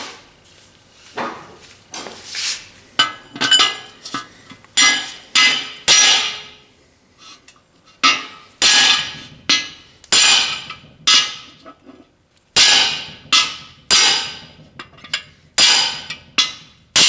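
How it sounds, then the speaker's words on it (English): A hammer drives a bushing into a 4R70 automatic transmission in a workshop, sharp metallic blows landing in short bursts of several quick strikes, with brief pauses between the bursts. "This is the only one you have to hammer in."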